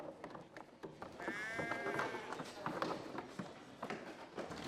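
Sheep bleat in a shearing scene, several overlapping calls rising above a busy bed of movement and shuffling, with a narrator speaking over them.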